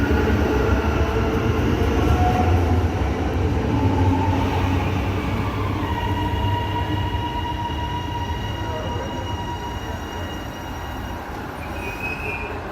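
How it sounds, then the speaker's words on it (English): An HCMT electric train on Melbourne's Belgrave line hums along steadily, its motors whining in rising tones as it runs, with rumbling wheels and a faint squeal, no voices. "I love the HCMT sounds."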